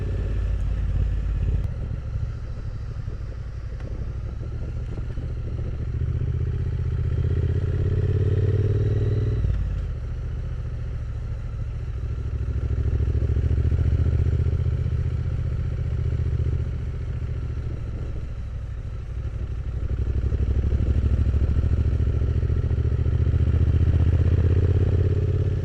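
Triumph Bonneville motorcycle plodding along a single-track lane at about 20 mph, engine a low steady rumble that swells and eases gently under wind noise.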